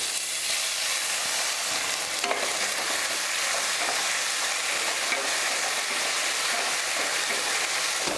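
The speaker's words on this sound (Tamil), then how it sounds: "எண்ணெய் காஞ்சதுமே கடுகு உளுந்து, அடுத்து பருப்பு சேர்த்துடலாம்." Mustard seeds, urad dal and lentils frying in hot oil for a South Indian tempering, a dense, even crackling sizzle close by with a brief sharper burst early on, no talking.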